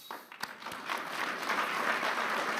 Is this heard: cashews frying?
no